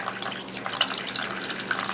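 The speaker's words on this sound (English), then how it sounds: "I'm just going to add a little bit more water to it" Water being poured into a pot of Vietnamese beef pho broth: a soft, continuous trickling splash with small bubbling drips, close and fairly quiet, with no talk.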